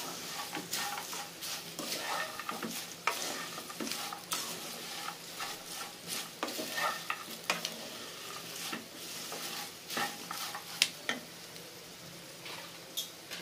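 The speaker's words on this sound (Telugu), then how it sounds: "బాగా మిక్స్ అయ్యేలా కలుపుకోవాలి." A spoon stirs an okra fry mixed with cashews, curry leaves, peanuts and coriander in a pan, giving repeated light scrapes and clicks over a soft, steady sizzle, fairly quiet and close with no talking.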